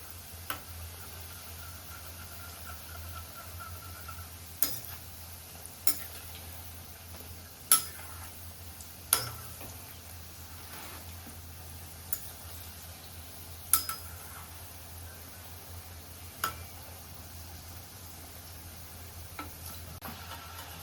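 Gujiya frying in oil over a low flame, a steady soft sizzle running the whole time with occasional sharp clicks and taps of a utensil against the pan, no voices.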